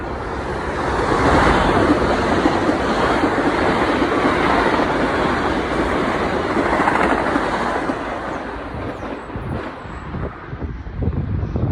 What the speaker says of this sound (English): There's an express train coming and I really need to get down for this.